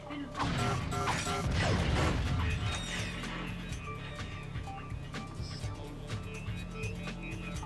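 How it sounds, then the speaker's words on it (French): Mechanical ratcheting and grinding as a bolt crank is turned with a wrench in the Ratchet & Clank video game, continuous and busy with clanks over a low rumbling game backdrop. "Mets les émetteurs à jour avec le crank au boulon."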